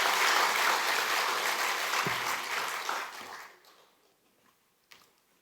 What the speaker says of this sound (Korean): 한번 격려의 박수를 잘 하시도록 하겠습니다.